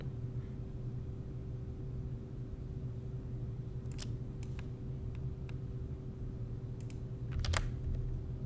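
Short bursts of computer keyboard typing with a few quick key clicks over a steady low hum, no talking.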